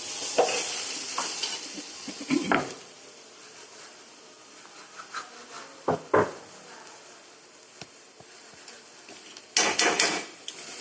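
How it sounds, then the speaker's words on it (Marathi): Spices tempering in hot oil in an iron wok for a paneer, onion and garlic dish, giving a steady soft sizzle broken by louder scraping stirs and knocks near the start, middle and end. "हे लोखंडाच्या कढईत फोडणी टाकले"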